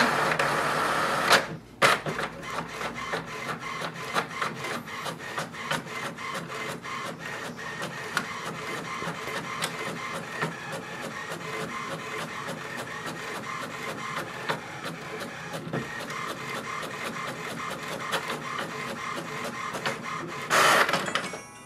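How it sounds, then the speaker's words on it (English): An HP Envy 6455e inkjet printer runs off a welcome sheet, a steady mechanical whir of paper feed and print-head passes with clicks and a sharp clunk near the start and end, close and alone. "So it's going to print welcome sheet."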